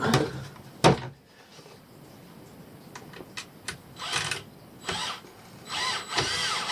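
A power drill driving screws into wood while building a prawn or shrimp pot trap, heard as short whirring bursts and clicks between handling knocks, fairly close, with no talking.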